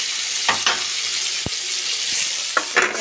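Fried potatoes, onion and dried red chillies stirred in a hot pan for a Bengali egg and potato curry: a steady sizzle with a few scraping spoon strokes and one sharp knock against the pan, close up, no voices.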